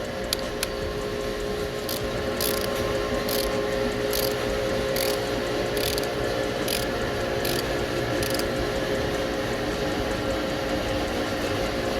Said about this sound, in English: I've got the normal ratchet as you can see there,